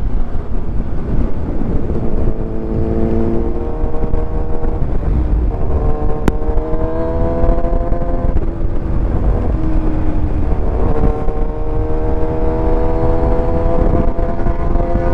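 A motorcycle rides along steadily, its engine drone rising and falling in pitch as the rider shifts from second to third gear, loud and close under strong wind buffeting on the microphone, with no talking.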